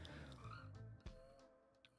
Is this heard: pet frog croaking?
yes